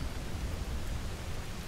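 Steady rain falls continuously, a soft even hiss with a low rumbling undertone, moderately loud and with no voices.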